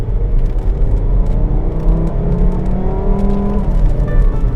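A VW Jetta MK6 2.5 with new red ignition coils and NGK spark plugs drives along, its engine rumbling steadily from inside the cabin with rising and falling rev tones.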